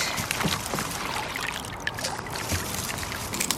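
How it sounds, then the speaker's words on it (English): Dahlia tubers are dunked and rinsed in a bucket of collected rainwater, with close, irregular sloshing and trickling splashes that run throughout. "go and dunk this in some water and see if we can clean it off"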